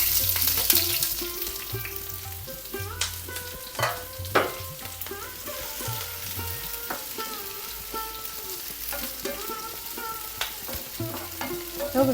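Chopped onion hits hot coconut oil in a pan for a ridge gourd and mango curry, raising a loud, continuous sizzle broken by repeated scraping stirs and clinks of a spoon against the pan, with nobody talking.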